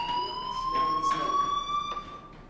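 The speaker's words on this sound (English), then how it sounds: "do you hear that fire alarm?" A school fire alarm from the game Life Is Strange rings as a steady electronic tone with harmonics, sounding continuously through the clip while faint talk and noises rise briefly beneath it.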